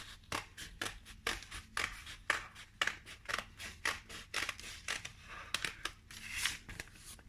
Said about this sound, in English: using the scissors, cut round your template